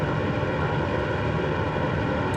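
A Grumman Albatross flying boat in Microsoft Flight Simulator 2024 drones with twin propeller engines at takeoff power, a loud, steady, unbroken roar.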